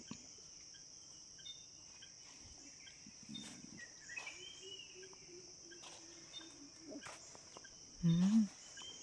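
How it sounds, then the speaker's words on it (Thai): Mountain frogs calling at night in a forest, a loud low croak near the end rising over a steady, shrill insect chorus, with a few faint scattered chirps. "เสียงกบภูเขา"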